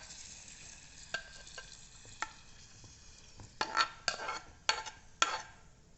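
Moong dal flour roasts in ghee in a pan with a low, steady sizzle. A utensil stirs and scrapes against the pan, starting with sparse taps and building to several louder scraping strokes near the end.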